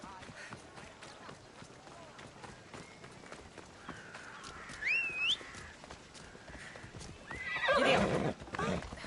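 A horse in Assassin's Creed Odyssey gallops with quick rhythmic hoofbeats and gives two rising whinnies, one midway and a louder one near the end, over faint game ambience.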